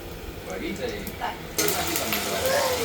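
Onions, tomatoes and potatoes sizzle in a pan for a mutton dish while being stirred, with scraping and frying hiss that jumps noticeably louder partway through.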